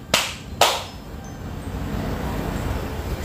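Two sharp, separate slaps of hands striking the backs of the legs during a bent-over health exercise, spaced about half a second apart and followed by a low, steady room hum.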